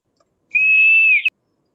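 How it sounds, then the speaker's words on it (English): In a classroom, a student gives a single clear, steady whistle lasting under a second, loud and close, with near silence before and after. "Want to whistle in the class?"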